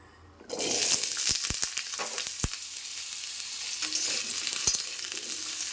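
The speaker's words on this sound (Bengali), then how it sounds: "আলুগুলো ভালো করে তেলে নেড়ে নেব আর ভেজে নেব।" Diced potato cubes hit hot oil left over from frying papad and are stirred as they fry, giving a loud, steady sizzle with sharp scraping clicks from the spatula and no voices.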